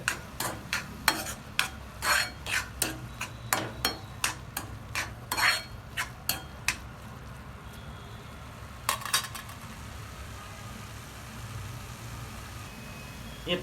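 Semolina being stirred into carrot halwa in a pan, a spoon scraping and clinking against the metal in quick irregular strokes, then sparser taps over a low steady hum.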